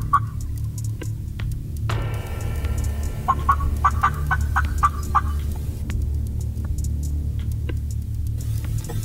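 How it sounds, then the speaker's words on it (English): A group of wild turkey gobblers answers in spring woods with bursts of rapid, rattling gobbles, several in quick succession at moderate distance over a low steady background hum. "it's a group of gobblers that responded to the gobbler talk"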